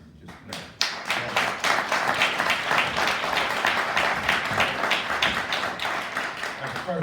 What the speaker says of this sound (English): another big round of applause for the brothers and sisters who just played